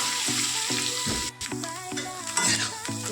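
Bitter gourd stir-frying in oil, with a continuous sizzle and repeated rhythmic scrapes and clinks of a spatula stirring the pan, up close.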